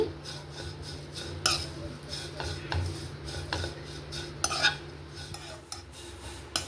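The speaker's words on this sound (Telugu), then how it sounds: "ఇట్లా మీడియం ఫ్లేమ్లో పెట్టేసి ఇలా వేయించుకోవాలి" Leaves frying in a pan over a medium flame, dominated by repeated scraping and clinking of a spatula stirring against the pan, with a soft sizzle underneath; the strokes are close and fairly regular.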